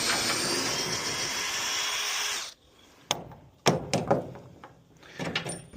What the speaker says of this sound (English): So taking this out with a little drill here.